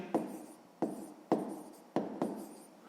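A pen scratches across paper in short strokes, four or five quick marks at a steady pace, close and fairly quiet.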